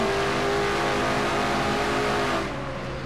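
A Chevrolet stock car engine, car number 11, roars at high revs from onboard during a night race at Richmond in a racing game, loud and sustained before easing slightly at the end.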